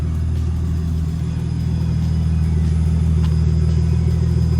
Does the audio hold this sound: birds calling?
no